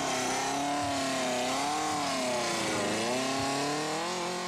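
A dune buggy engine revs at an off-road park near Alva, a loud, close, continuous drone whose pitch rises and falls as the throttle opens and eases, with no talking.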